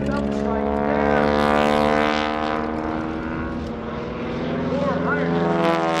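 A WWII-era trainer biplane, its radial engine later converted to 450 horsepower, drones steadily overhead at an airshow, climbing vertically; a loud, continuous propeller roar with harmonic hum and a commentator talking over it.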